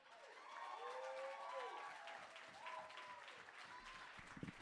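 Applause from the audience at a poetry slam, faint and distant, swelling early and then tapering, with voices faintly audible over it.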